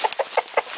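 A rooster gives a quick run of short, clucking calls, five rapid bursts close by.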